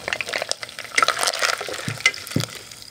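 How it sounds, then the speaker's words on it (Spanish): Chopped onion sautéing in hot oil in a pan on the stove while a burger is being prepared, giving a light crackling sizzle with scraping stirs and a couple of low knocks, close and steady with no talk. "La vamos a sofreír un poquito."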